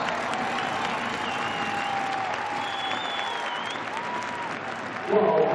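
Applause from the crowd fills an indoor arena at a women's indoor hockey World Cup quarterfinal between Germany and Poland after a goalkeeper's save, steady clapping under a commentator's voice before a brief louder burst near the end.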